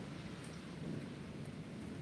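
Thunder rolls from an approaching large thunderstorm, a low, continuous distant rumble with a steady wash of rain beneath it, fairly quiet and unbroken throughout.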